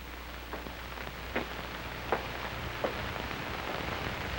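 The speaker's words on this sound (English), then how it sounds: "Rain, moderate to heavy." Moderate to heavy rain hisses steadily as a dense, even wash of noise, with a few soft, brief thumps and drips standing out over the constant downpour.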